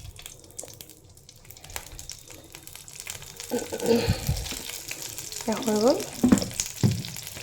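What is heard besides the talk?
ghost chillies frying in mustard oil on a hot tawa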